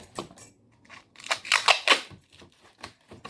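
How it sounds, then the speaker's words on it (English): Sellotape ripping and crackling as it is pulled off the roll and pressed onto a cardboard box, in irregular close bursts of tearing and rustling. "I'm going to tape it."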